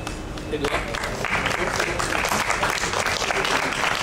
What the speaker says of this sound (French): je pense qu'on peut les applaudir très très fort